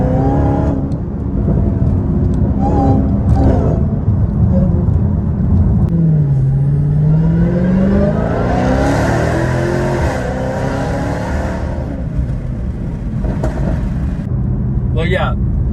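A Dodge Hellcat on stock tires accelerating, its engine droning loud and steady inside the cabin, the pitch dipping then sweeping upward as it revs, with someone talking over it throughout.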